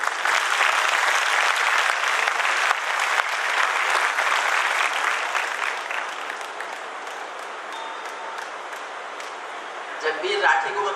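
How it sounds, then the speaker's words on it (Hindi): An audience at a Hindi poetry gathering, a kavi sammelan in Jind, breaks into sustained, loud clapping that gradually thins and softens toward the end, with a few scattered claps and a brief stir of voices at the close. "जो लोग करगिल सुनना चाहते हैं वो ताली बजा के बताएं।"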